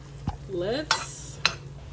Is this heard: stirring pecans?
yes